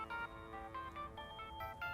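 A phone ringtone in the video game Dreamfall Chapters plays a repeating electronic melody of short tonal notes, fairly quiet and steady, with no talking over it.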